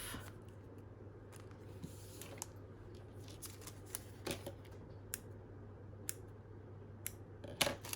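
Scissors trimming the edges of sewn baking-paper bags, a series of sharp, quiet, close snips and crisp paper clicks spaced irregularly over a faint background hum.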